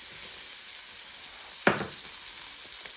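Onions hit a hot Power XL cooker while Salisbury steak is made, a constant sizzling hiss broken by one sudden loud burst as they drop in, then settling back, no talking.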